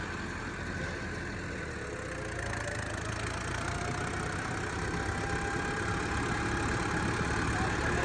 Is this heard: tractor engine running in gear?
yes